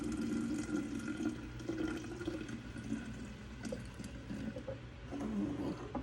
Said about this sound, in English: Now I just pour the milk, the strained milk, in these